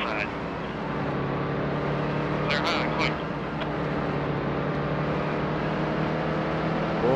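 Stock cars in the NASCAR Heat 2 racing game, a steady engine drone with cars roaring past, running under continuous talk.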